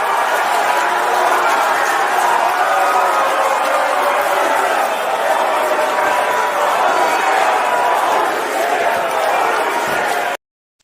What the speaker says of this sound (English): the crowd, the holy shit chant